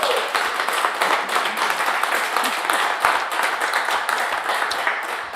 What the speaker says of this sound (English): How about one more round of applause for Duck Ryan, the first half of the show?